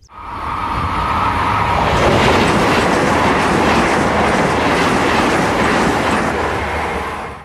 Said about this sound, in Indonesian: Kereta super cepat, teman-teman.